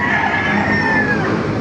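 Roosters crow loudly and continuously at a busy outdoor chicken market in Baliuag, Bulacan, with crowded fowl noise and faint clatter around them.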